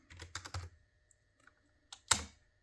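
Keys clatter on a computer keyboard in two short bursts of quick typing, close and fairly soft, with a brief pause between them, during a Windows setup.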